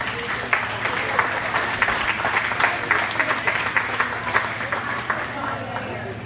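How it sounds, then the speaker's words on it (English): Audience applause at a county fair rabbit show, a steady patter of clapping lasting several seconds at moderate distance, with a low background hum under it. "let's give this class a round of applause"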